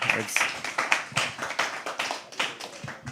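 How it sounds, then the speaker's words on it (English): Scattered clapping from a small audience at a live poetry open mic, a few sharp claps at first, then uneven bursts alongside a talking voice. "clap for yourself"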